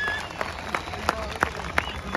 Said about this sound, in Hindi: भाई ताली बजाओ दोनों पहलवान